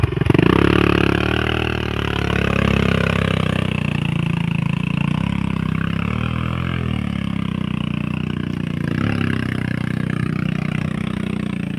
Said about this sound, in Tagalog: Nahirapan ang motor.